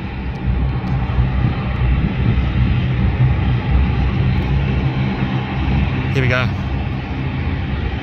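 A fixed-wing airliner at Canberra International Airport begins to taxi, its steady engine roar holding loud and constant throughout, with someone speaking briefly over it.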